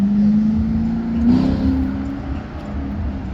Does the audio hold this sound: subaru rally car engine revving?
yes